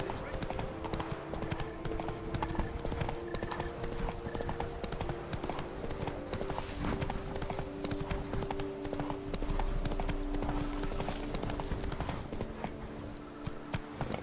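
Steady rhythmic hoofbeats from the horse Roach in the video game Witcher 3, a continuous clip-clop gait heard up close under low game ambience and some faint voices.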